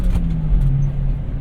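Engine drone from inside a Subaru Japanese kei truck driven at full throttle, a steady low hum with wind and road noise in the cabin.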